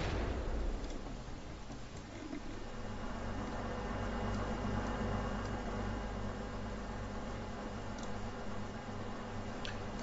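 Tank cannon fire and explosions in a multiplayer shooter game: a continuous rumbling, crackling battle din with dense low booms and scattered sharp ticks, steady throughout.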